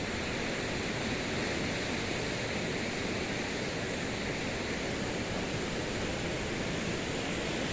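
Sea waves at Pak Khlong beach in Krabi, a steady broadband wash of surf rolling on without pause, fairly soft and even, with no voices.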